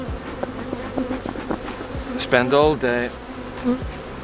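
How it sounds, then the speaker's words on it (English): Worker honey bees buzz around a beehive, their droning wingbeat hums close and loud, rising and wavering as individual bees pass near, with faint ticking taps underneath and no speech. "These are the females, they're the worker bees."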